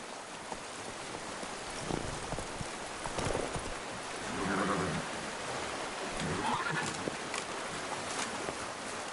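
Hoofbeats of Roach, a horse in the video game The Witcher 3, trotting in a steady clip-clop rhythm over a rainy, noisy ambience.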